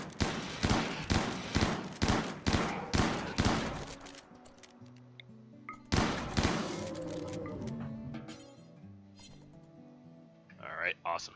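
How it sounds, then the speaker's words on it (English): Video game gunfire on a desert western farm: a rapid rhythmic string of loud shots for several seconds, then one more burst after a pause, with a ringing tail that fades out. "Loving up that shooting."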